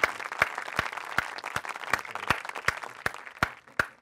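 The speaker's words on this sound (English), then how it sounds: "Round of applause for Harvey Elliott." A small group claps in a slow, even rhythm, about ten distinct, sharp claps spaced evenly, fairly close and moderately quiet, with no talking.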